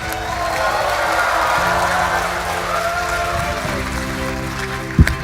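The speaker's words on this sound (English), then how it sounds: "Let's give him a big applause." Crowd applause for Nvidia's Jensen Huang at MediaTek's Computex 2024 keynote: a steady, dense wash of clapping filling a large hall, holding evenly for several seconds before a single sharp thump near the end.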